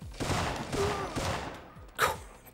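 Gunfire from Syphon Filter in the stronghold catacombs comes as a few separate, fairly quiet gunshots, with a sharper, louder crack near the end.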